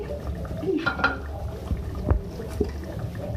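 A spoon stirs potato and okra curry cooked in mustard oil in a pan, with a few soft scrapes and clinks against the metal over low, sizzling background noise.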